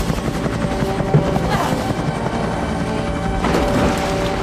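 Helicopter in the movie Shark Attack 3: Megalodon, a steady loud rotor and engine roar filling the whole moment, with brief crash-like swells over the top and no voices.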